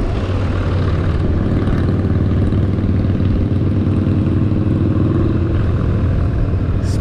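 A Honda Goldwing motorcycle climbing a steep mountain grade on the Foothills Parkway in the Smoky Mountains, a loud steady low engine rumble mixed with wind roar throughout.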